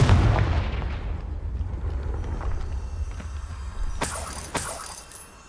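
A Confringo fire spell in the Hogwarts Legacy video game lands with a loud booming blast, then a long rumbling decay. A couple of sharp cracks or impacts follow near the end.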